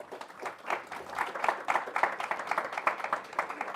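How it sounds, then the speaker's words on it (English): Faint, scattered clapping from a small audience after a panel discussion, uneven and light, continuing for a few seconds. "How about a round of applause for our excellent panelists?"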